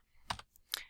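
Two separate key presses on a computer keyboard, typing a word in all caps, each a short bright click burst with quiet gaps between, fairly close and isolated.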